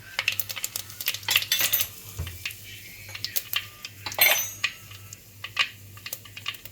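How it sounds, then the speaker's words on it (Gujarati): Mustard seeds spluttering in hot oil while cooking tindora sabji: close, irregular sharp pops and crackles in quick clusters over a low steady hum. "અવાજ આવવો જોઈએ રાઈમાં, અવાજ બંધ થાય એટલે જીરું"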